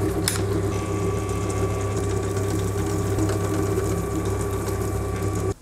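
A 2.5 mm hole is drilled into the gear of a Kity spindle shaper, producing a continuous, loud, even mechanical whine and hum close by that stops abruptly at the end.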